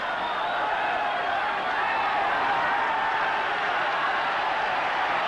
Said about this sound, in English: Well, the crowd are setting up a law here.